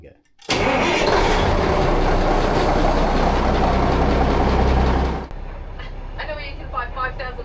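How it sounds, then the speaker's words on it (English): A boat engine cranks and catches in a sudden loud burst, holds a heavy steady roar for several seconds, then drops back to a lower idle while a voice speaks over it. "let's go start the engine"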